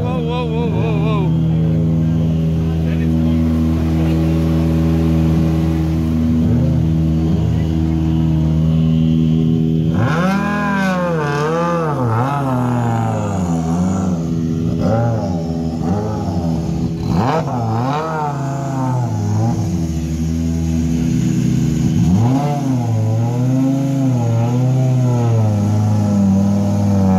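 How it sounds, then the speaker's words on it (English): A Hyundai i20 WRC rally car sits with a loud, close idle, then blips its engine repeatedly in sharp, rising and falling revs, with other voices audible nearby. "Then this thing pulled in, the Hyundai i20 WRC."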